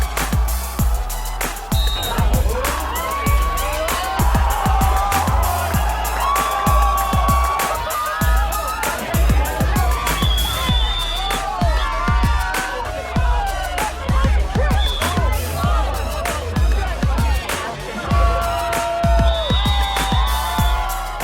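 A Whistler crowd cheers and whoops continuously at a jelly pit wrestling match, a dense, lively roar of voices with shouts rising above it throughout.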